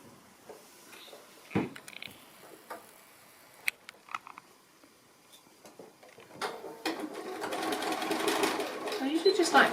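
A sewing machine stitching the corner of a fabric basket, starting with scattered clicks and handling noises, then running in a steady, close mechanical whir that grows louder toward the end.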